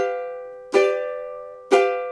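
Ukulele in a vintage-style tune rings out from a sustained chord, then two sharp down strums about a second apart, each decaying cleanly, played alone and close.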